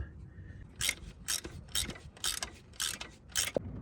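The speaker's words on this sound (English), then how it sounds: "I used a ratcheting wrench to tighten up the upper bolt." A ratcheting wrench tightens the upper alternator bolt on a Kia Sorento V6, giving six evenly spaced bursts of close, crisp clicking with brief pauses between strokes and a small metallic knock near the end.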